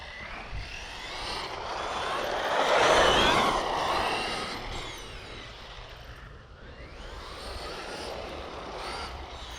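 A Traxxas Maxx V2 RC truck on original settings with slick track tires drives on a track, its electric motor whining up under throttle to a loud close pass, then fading as it moves away before building again.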